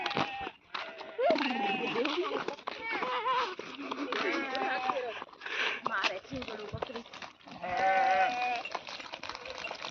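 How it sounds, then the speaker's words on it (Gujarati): A mixed flock of white sheep and black goats passes along a village farm path, bleating under a person's close, continuous talk. "જો ઘેટા આવ્યા બકરા ને ઘેટા આયલા જાય છે બધા"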